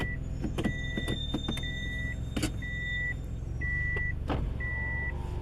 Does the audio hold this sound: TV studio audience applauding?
no